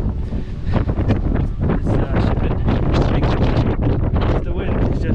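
Wind on Dartmoor's High Willhays hilltop buffets the microphone in loud, gusty roaring bursts at close range, with a person speaking faintly underneath.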